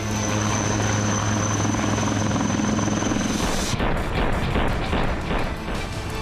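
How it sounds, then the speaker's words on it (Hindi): HAL Dhruv advanced light helicopter of the Indian Army in flight, a loud continuous rotor and turbine roar with a high whine that cuts off partway, leaving a choppier rumble, with no talk. "देश की रक्षा ताकत में नई ऊर्जा भरने वाला हेलीकॉप्टर ध्रुव एक बार फिर उड़ान को तैयार है।"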